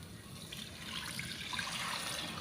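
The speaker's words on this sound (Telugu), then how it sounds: "చింతపండు పులుసు కూడా వేసేస్తున్నానండి ఇందులోని" Tamarind juice is poured into a simmering pulasa fish curry, a soft, continuous liquid trickle and splash heard faintly and close by.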